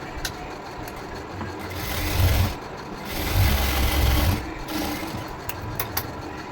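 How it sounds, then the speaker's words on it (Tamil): A sewing machine runs a rough straight stitch on a blouse, its motor whirring in short bursts that swell and fade with brief pauses between runs. "இப்போ இந்த மார்க் பண்ண பாயிண்டில் நம்ம இப்போ சும்மா ரஃபாக ஒரு தையல் போட போகிறோம்."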